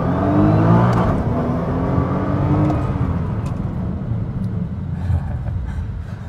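A 2013 Nissan GT-R launches hard on a dusty road, its engine note loud and close, rising in a steady roar that fades slightly as the car pulls away.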